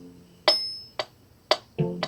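Quick, sharp clicks at a steady tempo, about every half second, crisp and close with nothing else around them.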